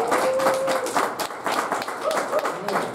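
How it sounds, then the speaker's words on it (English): A church congregation at a prayer breakfast claps in praise, with lively uneven hand claps, cheering and a whistle-like tone rising amid the crowd, voices mixed in. "give God a hand clap of praise"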